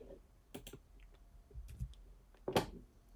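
Keystrokes on a computer keyboard while typing in a plain text editor: a few scattered clusters of crisp, close clicks with quiet gaps between them.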